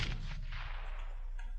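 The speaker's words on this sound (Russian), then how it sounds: "Я кинул гранату." A thrown grenade explodes in the military video game ARMA 3, giving a loud, dense blast whose rumble fills the whole short moment without any voice over it.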